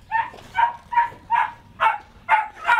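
A 10-week-old female puppy squalls and yips in a steady run of about seven short, loud, high cries at half-second intervals, close by, with no talking.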